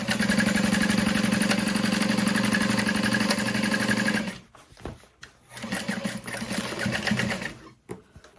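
A sewing machine stitches a backpack lining seam in a fast, steady whir for several seconds. It then stops, leaving quieter handling noises and a few short bursts of stitching.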